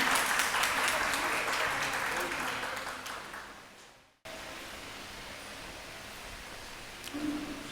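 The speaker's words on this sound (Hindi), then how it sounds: "तालियां हो जाएं।" An audience at an award ceremony breaks into loud, dense applause that gradually fades, cuts off abruptly, then leaves a quiet room tone with a few faint stray sounds.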